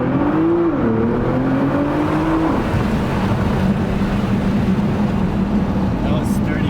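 A Nissan GTR R35 fitted with an AAM 2.75-inch intake drones loudly from inside the cabin, its engine note rising, dipping, then climbing again as the turbo spools up, before settling into a broad roar, with people talking over it.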